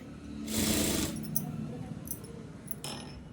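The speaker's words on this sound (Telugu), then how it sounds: "డబుల్ డబుల్ స్టిచ్ వేయండి మీరు నేను సింగిల్గానే వేసి చూపిస్తున్నానండి ఇలా" A sewing machine runs through a single line of stitching during a beginner tailoring cutting and stitching class, with a brief mechanical whirring burst near the start and fainter clicks and taps afterward over a low steady hum.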